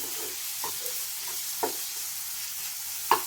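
Tomatoes frying in a pan for paneer bhurji give a low steady sizzle, broken by three sharp spoon scrapes or taps against the pan; no one speaks.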